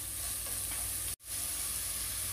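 Green chillies sauté in a pan with a continuous close hiss and sizzle while broccoli is prepared, the crackle briefly dropping out for a moment before carrying on just as steadily.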